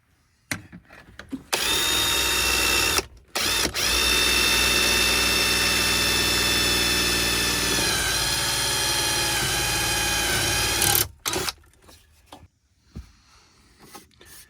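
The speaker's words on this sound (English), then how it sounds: "Got our hole drilled, got our connector through." Power drill boring a hole through a truck for a wiring harness connector: a loud, steady high whine runs for about ten seconds with one brief break, then gives way to quieter handling noises.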